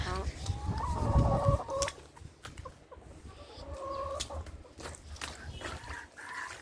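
Backyard chickens cluck and call up close in a short, irregular run of soft clucks and a few louder squawks, over a faint outdoor background.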